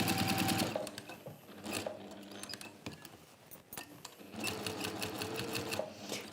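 A sewing machine stitches fabric for quilting in rapid, steady mechanical bursts, pausing briefly between runs before starting up again, loud and close with no voices.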